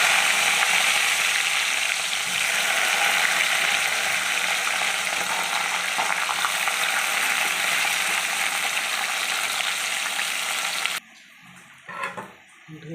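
Chopped onion sizzling in hot oil with bay leaf and cumin, a steady loud frying crackle that runs on before cutting to quieter clatter near the end.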